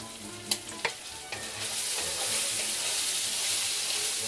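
Bacon frying in a pan with onions, red pepper, garlic and black pepper. A few clattering stirs come first, then a loud, steady, close sizzle builds and holds to the end. No one speaks.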